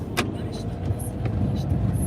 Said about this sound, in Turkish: Arabayı şuraya çekeceğim ben.